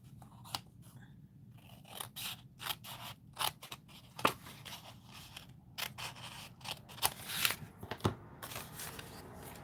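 Scissors snip through happy mail paper at a crafting table, a rapid, irregular run of close crisp cuts and papery rustles with brief pauses, quiet and free of talk.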